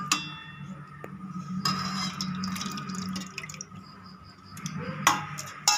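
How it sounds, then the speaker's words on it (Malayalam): Mango and watermelon ice cream mixture being poured from one container into another, with intermittent close dripping and liquid splashes, pauses between pours, no talking. "അപ്പോൾ നമുക്കിത് വേറൊരു പാത്രത്തിലോട്ട് നമുക്ക് ഒഴിച്ച് വെക്കാം."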